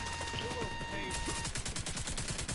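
Rapid bursts of light machine gun fire in the Warzone video game, with a steady rattling stream of shots that grows denser and more continuous in the second half, loud and close over game ambience.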